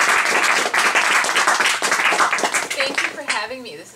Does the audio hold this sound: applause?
yes